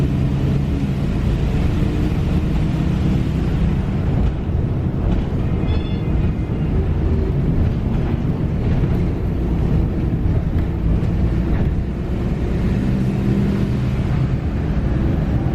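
A Mercedes-Benz OH1315 city bus engine drones steadily from inside the vehicle, a loud, continuous low rumble with rattles and road noise throughout.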